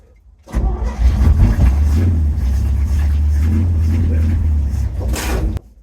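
An old, cold junkyard truck nicknamed Rusty catches after a short crank, then holds a steady, rough mid-pitched idle with slight revs for several seconds before cutting off abruptly.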